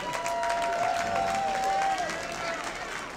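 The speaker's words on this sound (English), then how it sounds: "how about a round of applause for these two players?" An arena crowd at a fight night applauds after a knockout, producing a broad wash of clapping and cheering with a steady tone ringing over it, fading a little toward the end.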